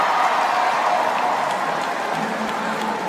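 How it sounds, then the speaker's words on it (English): A swimming venue crowd at a men's 1500m freestyle final at the Asian Games keeps up a steady, even wash of cheering and applause, dense and continuous with no single voice standing out. "Great cheer for Prewara"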